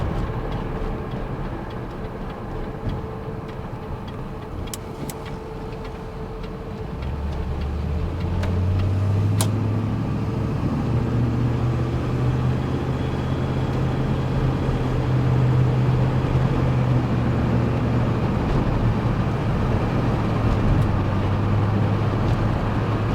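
An Oldsmobile Toronado being driven, its engine a low steady drone that rises in pitch and loudness partway through, with no talking over it.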